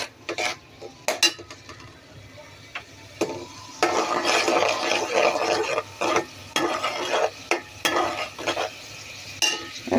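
A Bengali ghonto vegetable dish cooking with a little spice in a pan, stirred with repeated metal scrapes and clinks over a low, steady sizzle, close by with no talking.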